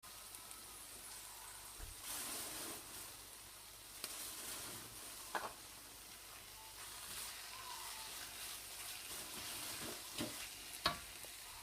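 Chopped onions with salt and turmeric sizzle steadily in a hot pan, with occasional stirring scrapes and clinks over a constant frying hiss.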